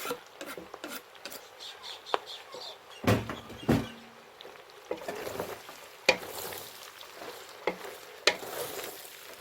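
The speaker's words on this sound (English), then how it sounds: "Give it a good stir." Garlic and ginger stirred into half-fried onions in a pan, with scattered close clunks and scrapes of the utensil against the pan over a faint background hiss.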